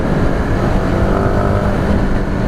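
Honda Supra GTR 150 motorcycle engine held at high revs, a steady loud droning roar with no breaks, close up and alone.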